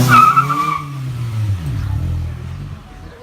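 A lowered Lancer fitted with TEIN Street Basis Z coilovers does a burnout nearby: loud tire squeal over a revving engine, rising pitch at first, then a rough lower engine growl as the squeal fades.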